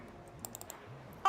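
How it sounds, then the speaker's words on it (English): A few quick, soft mouse clicks from the Placid Plastic Duck Simulator game, scattered over faint background sound. A louder noise comes in at the very end. "Oh, the mouse does make a clicking sound!"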